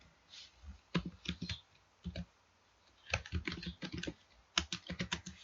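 Someone types on a computer keyboard in short, irregular bursts of quick key clicks separated by brief pauses. The clicks sound close and fairly quiet in an otherwise still room.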